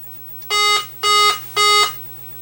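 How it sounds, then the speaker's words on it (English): Three loud electronic beeps, evenly spaced, each about a quarter second long, come from a 1980 Atari Centipede arcade circuit board running its self-test, with a steady low hum underneath. "3 beeps. See, I don't even need the fluke."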